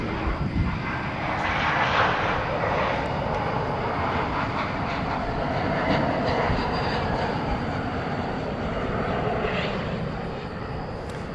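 A jet airliner arriving at DFW Airport at night on a flight from Seattle, its engines a broad, steady roar that holds loud and close throughout, with no voices over it.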